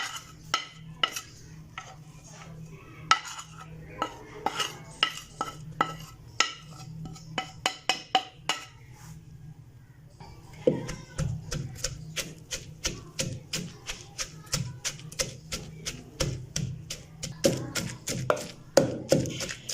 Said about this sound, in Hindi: तमाम स्पाइसेस ऐड करके फिर से अच्छे से कूट लेंगे इन तमाम चीज़ों को